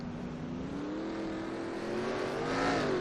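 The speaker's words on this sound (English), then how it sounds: "All over the back bumper of 38 of McDowell." NASCAR Cup cars race in the NR2003 video game, a steady droning engine whine that rises slightly in pitch as the cars accelerate, continuous and fairly close.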